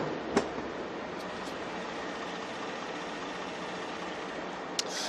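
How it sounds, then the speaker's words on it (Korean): Renault Samsung SM7 large sedan engine idling with the hood closed, a low, steady, fairly quiet hum with two faint clicks, no voices. "이 정도의 엔진 소음 기대하실 수가 있는 차량입니다"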